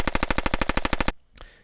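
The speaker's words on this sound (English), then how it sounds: "the body of the close gunshot is actually not just one close gunshot recording" Layered close gunshot sound effect built from stacked recordings, a rapid burst of about fourteen sharp, evenly spaced automatic shots that cuts off abruptly, followed by a short, faint tail.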